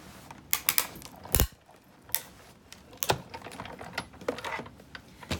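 A die cutting machine rolls a sheet of paper through once for a reindeer Christmas card, giving close clicks and short mechanical clunks with uneven gaps and one heavy thump partway through.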